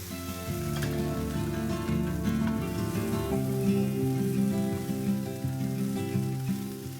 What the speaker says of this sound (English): Baby corn, green onions, and shiitake mushrooms. Saute for a couple of minutes.